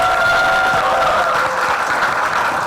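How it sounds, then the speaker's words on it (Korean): An audience at a World AIDS Day seminar applauds the event staff, a continuous, fairly loud wash of clapping with a steady sustained tone running beneath it through the first half. "박수 부탁드립니다"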